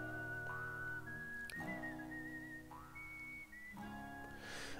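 Melodic whistling carries the tune of a Western-style video game music track from Live A Live, with sustained whistled phrases sliding between notes over soft orchestral backing.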